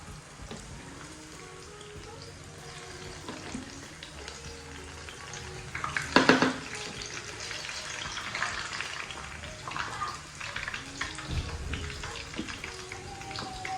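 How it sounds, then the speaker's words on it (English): Nigerian akara, bean fritters with onions, frying in hot oil, giving a steady close sizzle and crackle throughout, with a louder burst of spattering partway through as batter goes in. "It's time to start frying."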